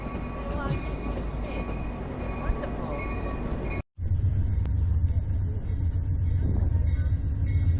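A San Joaquin passenger train bound for Bakersfield rolls along the rails with a steady, heavy rumble; the sound cuts out briefly midway, then resumes deeper and louder.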